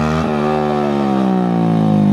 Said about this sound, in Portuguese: Ele tá limitando a primeira, a moto não sai do chão!